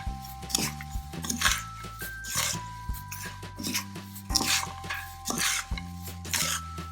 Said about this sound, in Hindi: हम रोस्ट किए हुए पोहा को इस तरह अच्छे से मिक्स करेंगे।